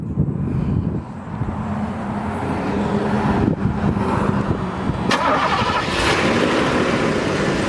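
A 1986 Mercedes 560SL roadster with a 5.6-liter V8 cranks and fires up, then settles into a loud, steady, close idle with a few brief revs.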